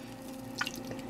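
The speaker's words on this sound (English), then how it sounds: "you just pour the butter out into the pan" Melted butter from a stick is poured into a cake pan, giving a faint, brief wet drip and splash over a low steady hum, with no voices.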